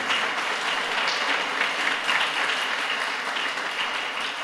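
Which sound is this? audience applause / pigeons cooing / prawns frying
audience applause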